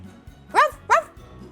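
A voice imitates a dog barking with two short, sharp woofs in quick succession, close and clear.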